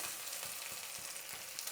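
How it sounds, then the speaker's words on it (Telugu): Dry red chillies, garlic, mustard seeds and cumin fry in hot oil for tomato dal, a steady close crackling sizzle with a short louder burst at the end. "ఇవి వేయించుకుందాం."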